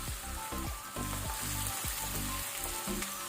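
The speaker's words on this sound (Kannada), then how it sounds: "ಇದನ್ನು ಸ್ವಲ್ಪ ಫ್ರೈ ಮಾಡ್ಕೊಳ್ಳುವ, ಹಸಿ ವಾಸನೆ ಹೋಗೋ ತನಕ, ರಾ ಸ್ಮೆಲ್ ಹೋಗಬೇಕು." Ginger garlic paste fries in a pan with a steady loud sizzle, broken by regular stirring scrapes, close up and with no voices.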